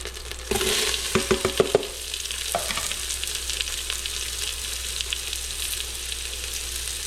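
Onions sautéing in olive oil for birria tacos, a loud close sizzle with a burst of clattering stirring early on, then steady frying alone.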